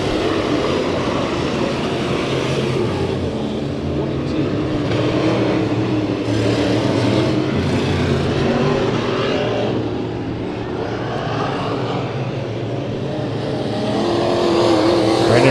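IMCA Sport Mod race cars roaring around a dirt track during a heat race, a loud, continuous engine drone that swells and fades slightly as the cars circle, heard from a distance with no talk.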